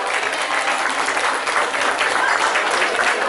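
Warm applause from a crowd at a broth festival in Łapanów, Poland, greeting a Kraków catering school team; dense, steady clapping fills the whole stretch without a break.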